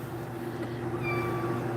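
A house cat meows in a room with a steady hum underneath, one drawn-out call rising partway through the clip.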